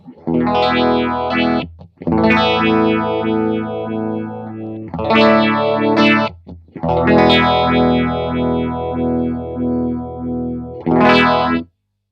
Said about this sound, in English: It's a 4-stage tube-driven phaser